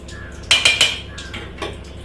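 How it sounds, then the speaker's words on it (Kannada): A pressure cooker lid is fitted and closed over a biryani mix in a home kitchen, giving a few sharp metallic clanks in quick succession, followed by softer knocks, close and fairly loud, with no talking. "ಸೊ ಕುಕ್ಕರ್ ಕ್ಲೋಸ್ ಮಾಡ್ತಾ ಇದ್ದೀನಿ."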